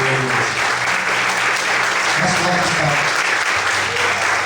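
A church congregation claps loudly and continuously, a dense wash of applause with faint voices mixed in underneath.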